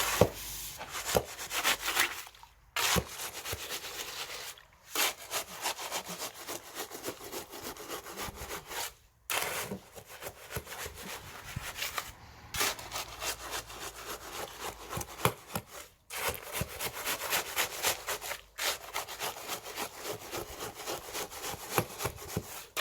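Concrete is mixed by hand without a mixer, with long runs of close, rhythmic gritty scraping strokes broken by a few short pauses and no speech.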